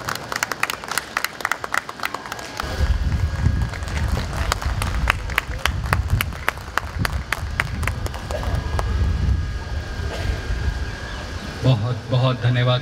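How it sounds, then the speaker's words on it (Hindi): An indoor audience at a family get-together claps steadily to welcome a guest, the applause swelling into a sustained crowd clatter for several seconds, with a voice over a loudspeaker at the start and end. "कृपया तालियां से थोड़ा सा स्वागत हो जाए।"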